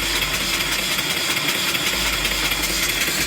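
A mill steam engine, fed from a 20-inch boiler, drives an alternator, turning about 100 RPM at the engine and about 1,000 RPM at the alternator. It runs as a steady, loud, close mechanical whir and hiss with no pause.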